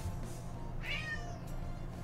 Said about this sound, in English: Speaking of cats, my cat wants out of the bedroom.